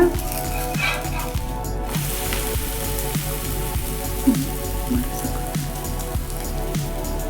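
Akki rotti cooking in a pan, a steady, loud crackling sizzle with fine popping throughout, no talk over it.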